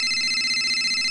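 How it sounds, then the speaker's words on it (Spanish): Incoming-call vibration of a phone in GTA San Andreas, a steady continuous electronic buzzing tone, loud and close, alone without talk. "Mierda, me vibra el culo. Ah, es que soy sentado en mi teléfono."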